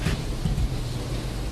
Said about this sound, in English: dumping torrential rain and unleashing powerful winds of 80 miles per hour